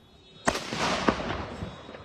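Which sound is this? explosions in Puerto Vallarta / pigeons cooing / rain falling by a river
explosions in Puerto Vallarta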